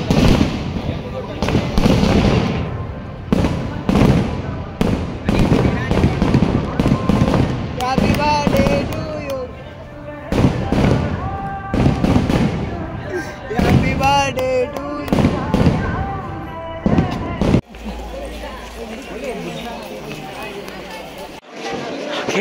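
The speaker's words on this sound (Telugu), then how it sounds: "అక్కడ చూడండి అసలు నాన్ స్టాప్ కొంచెం కూడా గ్యాప్ లేకుండా అయితే పేలిపోతున్నాయి మన క్రాకర్స్" Firecrackers burst nonstop at a centenary festival for Sathya Sai Baba in Puttaparthi, loud cracking pops and rapid crackling strings layered over crowd noise and voices, with barely any gap between blasts.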